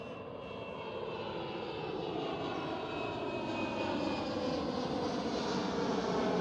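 A KLM Cityhopper Embraer E190 jet climbs away after takeoff from Schiphol, Amsterdam, its steady broadband engine roar holding at a distance and swelling slightly as it passes, with no other sounds over it.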